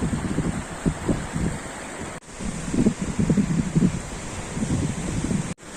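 Sea waves wash ashore at sunset on the Albanian coast, a steady, moderately loud surf with soft rolling swells and some wind noise across the microphone, with no one speaking.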